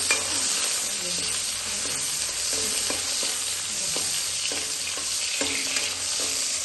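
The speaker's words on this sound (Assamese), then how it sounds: "কোৱাতে পিঁয়াজ দি দিলে" Onions fry in a wok with a continuous close sizzle, punctuated by regular stirring scrapes and soft clatter throughout.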